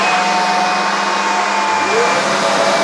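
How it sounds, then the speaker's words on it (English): A Hoover vacuum extractor hooked up to a router table runs steadily with a loud, constant broadband whine and airflow roar throughout, with no one speaking. "Hoover's turned on."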